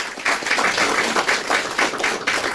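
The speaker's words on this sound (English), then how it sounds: "So I want us to give a round of applause to Sandra Bell-LaRocque and the organizers." At an outdoor art show in a flower garden, an audience breaks into dense, steady applause, many hands clapping together at close range without voices.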